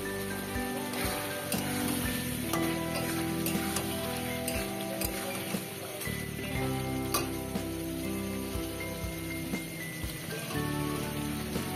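Chicken with chilli powder, jackfruit and potato sizzles steadily in a pan while being stirred down, a loud continuous crackle and hiss with occasional scrapes, close up and with no voices.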